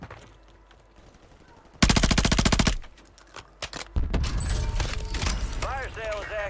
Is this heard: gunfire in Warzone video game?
yes